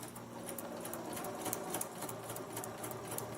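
A sewing machine stitches a paper-pieced log cabin heart quilt block with a quiet, even whirring patter that keeps going throughout, with no pauses.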